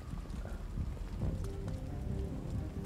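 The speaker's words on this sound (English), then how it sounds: "Oh, it's still raining outside." Steady rain patters outside in the video game Detroit: Become Human, a dense even hiss of drops with a few louder taps mixed in, continuous throughout.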